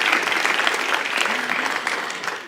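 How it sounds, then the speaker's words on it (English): A closing-ceremony audience gives a full, close round of applause that holds steady before tapering slightly, with faint voices mixed in underneath. "A round of applause"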